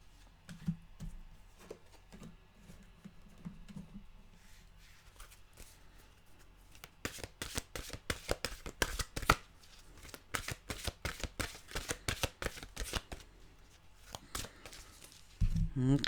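A deck of mantra cards is shuffled by hand, giving a rapid run of crisp flicking riffles close to the mic, preceded by quieter handling and soft talk.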